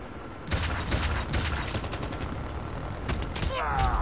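Rapid bursts of gunfire crackle continuously over a dense, noisy game soundscape, with a whooshing effect near the end.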